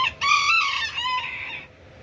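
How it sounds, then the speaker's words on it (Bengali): A large Buff Orpington chicken gives one loud, close crow that trails off into clucking, heard on its own. "কত বিগ সাইজের একটা মুরগি এটা হচ্ছে বাফ অরপিন্টন"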